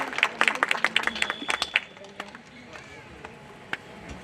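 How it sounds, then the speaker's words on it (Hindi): Hands clapping at a hospital reopening ceremony and medical camp, a burst of claps near the start that thins out and fades within two seconds, followed by quiet room noise and a few scattered claps. "कृपया जोरदार तालियों से इनका स्वागत करें।"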